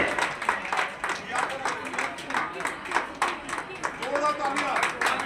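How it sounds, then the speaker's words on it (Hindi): Gathering at a Chaurasia community conference in Agra for Nag Panchami claps to welcome the chief guest: steady, fairly faint applause from a crowd, with chatter mixed in. "आप सभी साथी जोरदार तालियां हो जाए स्वागत में हमारे मुख्य अतिथि के"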